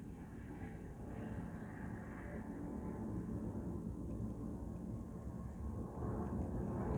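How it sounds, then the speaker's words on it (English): An airplane passes over a residential neighborhood at night, a steady low engine drone that holds at moderate distance and swells slightly toward the end, with no talking. "And that's another plane."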